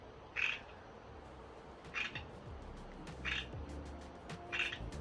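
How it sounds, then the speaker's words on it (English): A loud frog in a garden in early fall repeats a sharp croak four times at roughly even intervals over a low background hum. "That frog is literally so loud."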